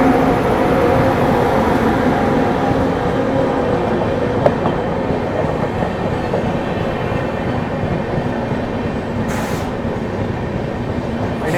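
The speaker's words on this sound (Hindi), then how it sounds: "Anand Vihar Ghazipur city Sohail Dev superfast express." Anand Vihar–Ghazipur City Suheldev Superfast Express passing at speed on a green signal, a continuous loud rumble and rattle of coaches with wheel clatter throughout, close by.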